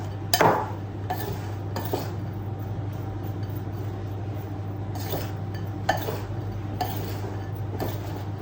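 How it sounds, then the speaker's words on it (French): Cocoa powder being stirred into a chocolate cake mixture, with faint, close scraping and occasional clinks of utensil against bowl over a steady low hum. "à soupe de cacao en poudre. Et je vais mélanger. Pour encore enrober tout ça."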